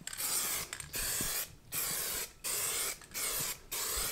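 Short hissing bursts from a spray can of undercoating on a Mazda RX-7, about five sprays separated by brief pauses, close and steady, with no one speaking.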